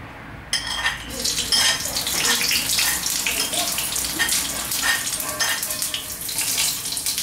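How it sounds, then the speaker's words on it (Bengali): Panch phoron spices hit hot oil in a heated kadai wok. The loud crackling sizzle bursts in suddenly after half a second and continues as a dense, spitting hiss with sharp pops. "আমার কড়াই গরম হয়ে গেছে, আমি এটাতে তেল দিয়েছি একটু। এবার এটাতে পড়বে পাঁচফোড়ন,"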